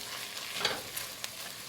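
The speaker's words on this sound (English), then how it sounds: "Now we're going to throw in 3 tablespoons of tomato paste. We're going to mix this in and cook it for about 2 minutes." Tomato paste being stirred into a pot of chilies and onions for brisket chili, a soft scraping stir over a light sizzle, close and quiet, with a few sharper scrapes and no talking.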